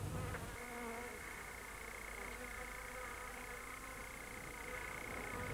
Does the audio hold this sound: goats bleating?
no